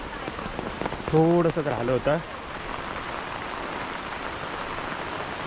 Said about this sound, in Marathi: आणि पावसाने केला जोर.